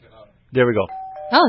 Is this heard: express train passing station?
no